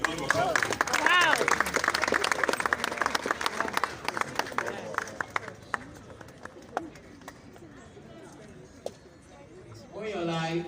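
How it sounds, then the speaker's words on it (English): A live audience at a software demonstration bursts into applause, loud dense clapping that gradually thins and fades over several seconds, with a voice speaking briefly at the end. "A round of applause."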